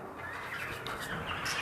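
Pet sparrows in an indoor breeding room give a steady wash of small chirps and tweets for under two seconds, moderately loud and continuous, with no one speaking.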